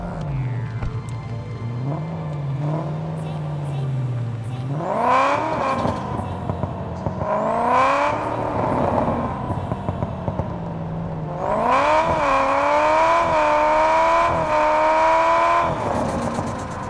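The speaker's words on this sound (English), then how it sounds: "trying out the new exhaust sound on my Honda Civic EK9" A Honda Civic EK9 engine in the game Car Parking revs up and down repeatedly in rising, whining bursts, with a deep exhaust rumble and brief idle dips between the pulls.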